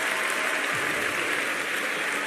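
A crowd at a rhythmic gymnastics clubs and ribbon final, at the 2019 Summer Universiade, claps and cheers in a dense, steady roar of applause that holds at a constant level throughout.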